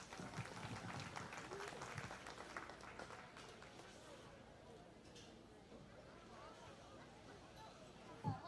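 An audience applauds at a county fair 4-H/FFA market hog show, a burst of clapping that thins into crowd murmur and a shuffling, fairly quiet arena ambience.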